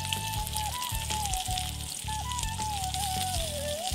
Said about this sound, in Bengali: অল্প তেলেই কিন্তু বেগুন ভাজা হয়